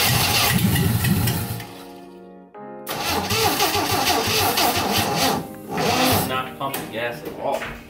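A 1965 Chevrolet C10 engine cranks and catches while fed by a fuel pump drawing from a can, revving loudly and unevenly after a brief pause, close up, with voices talking over it.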